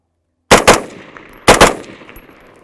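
Two sharp, loud rifle shots fired close by over a LabRadar chronograph, about a second apart, each a hard crack followed by a brief decaying echo outdoors.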